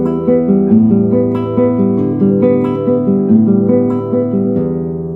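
Open guitar strings picked in a steady repeating arpeggio with no fretted notes, bright ringing tones overlapping in an even rhythm, close and loud with no talking.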